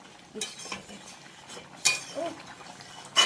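Crab curry is stirred in a pan on a gas stove, with a few close metallic clinks and scrapes of a spoon over a soft simmering hiss and no talk.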